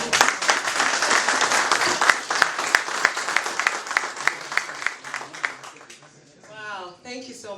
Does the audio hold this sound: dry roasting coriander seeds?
no